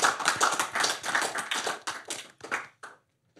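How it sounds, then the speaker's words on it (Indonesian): Applause from an audience at a Forza gathering as its chairman and former secretary-general are welcomed, a brisk patter of claps lasting about three seconds that thins out into a few scattered final claps. "Tepuk tangan buat"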